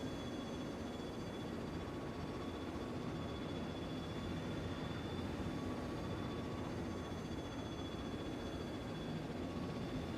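A spacecraft in Star Citizen boosts with its afterburner, a steady, even roar of thrust that holds constant and fairly quiet throughout without pauses.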